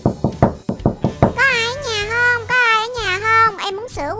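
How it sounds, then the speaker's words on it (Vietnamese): A few quick, close knocks on a toy dollhouse door during Barbie doll play, then a bright, high-pitched voice starts talking. "Thôi gõ cửa vậy."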